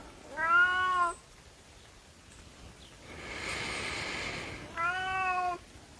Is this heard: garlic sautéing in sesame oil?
no